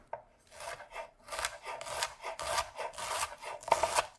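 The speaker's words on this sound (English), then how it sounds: "I'm gonna finish slicing the rest of my Brussels sprouts" A knife slices thinly through Brussels sprouts on a cutting board, making a series of close, crisp rasping strokes at an irregular rhythm, with soft taps between cuts and no talking.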